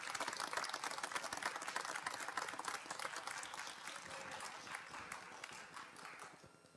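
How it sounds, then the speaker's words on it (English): Applause from the audience at a school board meeting, a sustained round of dense clapping that stays steady for several seconds before slowly fading toward the end. "If we could give one more round of applause to all of those recognized in Mrs. Lee."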